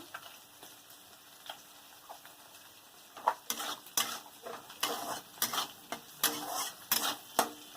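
Vegetables being stirred in a pan: a quiet simmer first, then a run of repeated scraping strokes of a utensil against the pan in the second half, close and fairly faint, with no talk.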